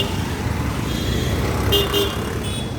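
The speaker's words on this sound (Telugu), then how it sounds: "హారన్ కొడుతూనే ఉన్నారు." Car horns honk in short bursts over a steady rumble of jammed road traffic in Shivajinagar, Bangalore, with a couple of toots close together and another a moment later.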